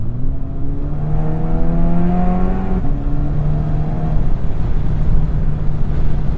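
An APR Stage 3 tuned VW GTI making about 350 wheel horsepower is driven hard, its engine note climbing steadily through the revs, then dropping briefly at a gear change before pulling up again. The sound is loud and close, with road and wind roar underneath.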